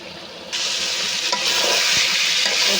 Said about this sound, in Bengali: আরও কষিয়ে নেব।